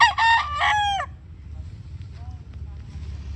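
A rooster crows once nearby, a loud harsh call lasting about a second, then fades into quiet outdoor ambience with a faint distant cluck.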